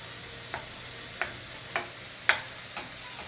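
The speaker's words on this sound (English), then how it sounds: "Make sure your onions are broken up. Stir them around a bit." Onions fry quietly in a pan while being stirred for tacos, a soft background sizzle broken by five evenly spaced scraping clicks of the utensil, close and fairly faint.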